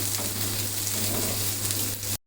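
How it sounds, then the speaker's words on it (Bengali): Onion with red and green chillies frying in oil, a loud, continuous close-up sizzle with a crackling texture that cuts off abruptly at the end. "এটা দিয়ে এখন আমি ভেজে নিব কিছুক্ষণ"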